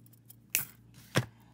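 Wire cutters snipping jewelry wire for a wire ring, two sharp close clicks about half a second apart over a quiet room background.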